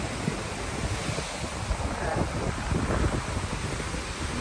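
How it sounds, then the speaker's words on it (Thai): Sea waves wash and roll at a beach under strong, buffeting wind that rumbles against the microphone, a constant loud outdoor roar with surf swelling through it. "ทะเลสวยจังเลยค่ะ ลมก็เย็นดีค่ะเนาะ"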